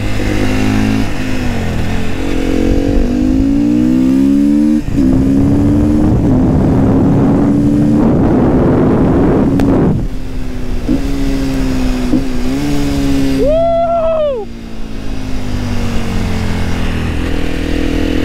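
A Sherco 500cc supermotard motorcycle revs hard on a test ride, climbing through repeated rising engine sweeps with brief drops between gears. The engine is close, loud and continuous, with wind noise and no talk.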